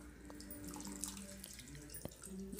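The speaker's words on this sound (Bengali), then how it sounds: "এই দেখুন 4টে ব্রেড ভালো করে জলের মধ্যে দিয়ে 2 হাত দিয়ে একদম জলটা ভালো করে চেপে" Water is squeezed by hand out of four soaked bread slices for bread pakora, giving a faint, continuous wet trickling and dripping with a few small splashes, close by and without talk.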